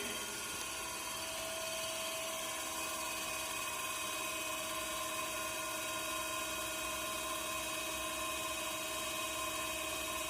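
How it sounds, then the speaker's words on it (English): A DC series motor in a lab test setup runs steadily, giving a continuous, even electric whine with several sustained tonal hums, close and alone throughout. "Now we check the speed of this motor."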